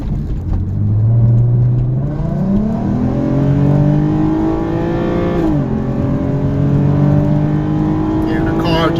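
A Mk2 Audi TT with a CTS turbo intake pulls hard, the engine note climbing steadily, dropping at a gear shift, then rising again. It stays loud throughout, with a voice faintly underneath.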